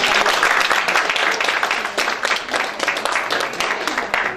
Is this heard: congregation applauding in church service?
yes